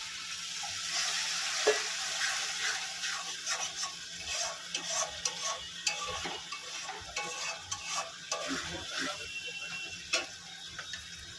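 Prawns cook in mustard oil after water is added, with a sizzle under repeated scraping and stirring of a utensil against the pan. Irregular clacks and rattles come through close by, and faint voice traces are barely present.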